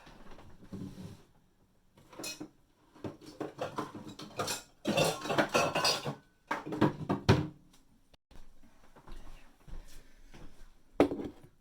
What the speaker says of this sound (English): Just going to whisk that up add in a cup of milk.